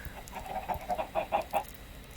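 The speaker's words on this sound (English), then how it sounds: "Here we have the chickens." Several soft, short clucks from Minecraft chickens in a quick uneven series, fairly quiet against a faint background.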